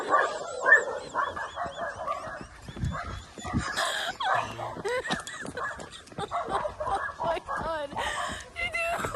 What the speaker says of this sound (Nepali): कसम छ कुकुर चाहिँ छ खुला छोड्या तर डर लाग्यो मलाई